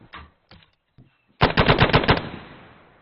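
A machine gun fires during squad infantry training: a few separate sharp shots, then a loud close burst of about ten rapid rounds that ends in a ringing echo fading across the range.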